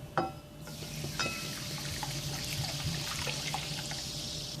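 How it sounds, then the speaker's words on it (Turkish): Mineral water poured into a large bowl while making onion rings, a soft steady splashing and trickling stream with light fizzing, close by and alone. "Büyük bir kaseye maden suyunu koyuyorum."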